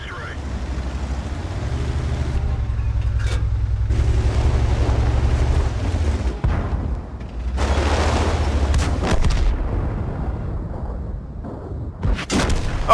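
Tank gun fire in World of Tanks, a heavy booming blast over a continuous loud engine rumble, with sharp bursts and rumbling decay as the vehicle moves, and a brief quieter lull midway.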